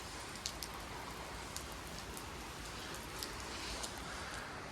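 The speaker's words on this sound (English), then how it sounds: "Yeah, it's proper raining now." Steady rain falls on a farm during harvest, a soft continuous hiss with scattered drops pattering on a nearby surface, no voices.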